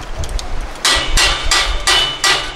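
Hammer blows on construction work while preparing to build a large terrace during a mountain restoration project: five loud, close, sharp strikes at a steady, slightly uneven pace, with faint shuffling before the first blow.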